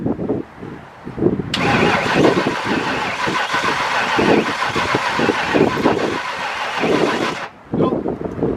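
An old engine, unstarted for 15 years, cranks continuously for about six seconds with a rhythmic, loud churning starter whir but never catches, then falls silent.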